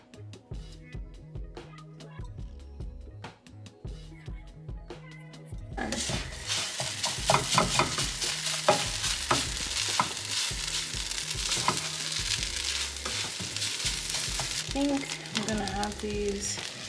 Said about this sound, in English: Cooking the peppers.